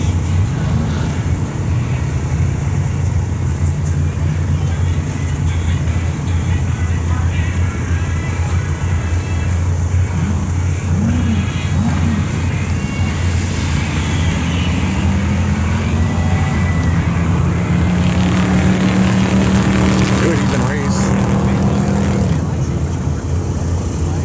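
Drag race at an airfield strip between a 1972 Dodge step-side pickup with a 440 engine and 3.55 gears and a 1970 Chevy Monte Carlo, heard as a steady loud engine roar with rising revs, under an announcer's talk.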